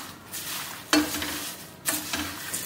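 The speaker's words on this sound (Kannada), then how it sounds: "ಈ ಎಣ್ಣೆಲಿ ಹಾಕಿ ಸ್ವಲ್ಪ ಫ್ರೈ ಮಾಡಿಕೊಂಡ್ರೆ ಸ್ವಲ್ಪ ಘಮ ಚೆನ್ನಾಗಿ ಬರುತ್ತೆ ಅಂತ" Crisp dried curry leaves fry in hot oil, a soft sizzle broken by two sudden louder crackling bursts as they are stirred, with no talk.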